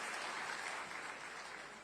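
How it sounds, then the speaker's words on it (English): A hall audience at a chartered accountants' conference applauds a minister, steady, continuous clapping that sounds fairly distant and faint. "A big round of applause and thank you so much,"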